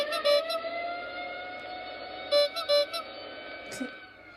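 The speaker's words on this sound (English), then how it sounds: "Listen to what bike and deck alarm sound together." Bike and deck alarm sounds from a sound app play together: a sustained electronic tone with steady pitch bands, overlaid by a few short, louder chirping bursts, near and moderately loud, with no talking.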